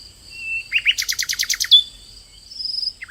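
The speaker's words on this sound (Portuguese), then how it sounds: "O passarinho começava a cantar maravilhosamente." A small golden cartoon bird sings a bright, rapid trill of chirps, opening with a few rising notes and ending with a high whistle, clear and alone with no talk.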